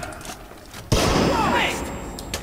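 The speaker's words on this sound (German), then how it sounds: "Granate!" A grenade detonates in Splinter Cell: Conviction with one sudden, loud, close boom followed by a long decaying roar and scattered debris, with faint game chatter before it.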